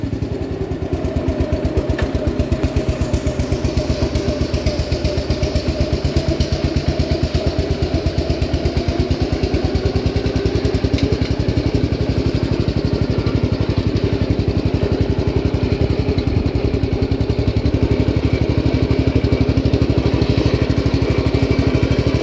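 A one-owner 1967 Gravely 430 tractor, a barn find fitted with a front drive kit and running on old engine oil, runs in high gear with a loud, rapid, steady single-cylinder chug and rattle throughout.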